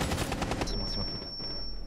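A rapid burst of automatic gunfire in Rainbow Six Siege rattles off close and loud, then cuts out and leaves a thin electronic whine over low rumble.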